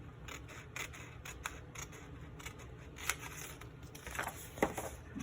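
Scissors snip through paper close by, a run of faint, crisp cuts at an irregular pace over a quiet background.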